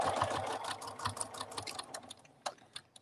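A sewing machine stitches in a quick, even run of mechanical ticks, near and fairly quiet, slowing and breaking into a few separate clicks toward the end.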